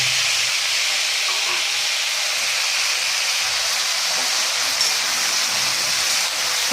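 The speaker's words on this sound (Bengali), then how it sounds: "হালকা করে ভেজে নিলাম" Jujubes frying lightly in hot oil with five-spice tempering for a pickle, a loud, continuous hissing sizzle that stays steady and close with no talk over it.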